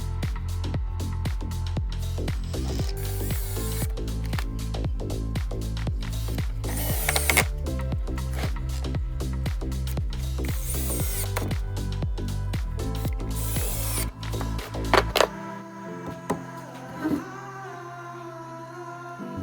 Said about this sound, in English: Pre-drill some holes.